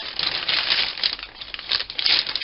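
A pipe cutter's roller scores a car brake pipe as it is wound around, making a close, continuous rasping scrape that swells and eases with each turn.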